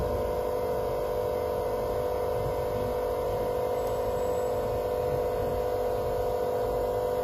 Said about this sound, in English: Turn off the vacuum pump.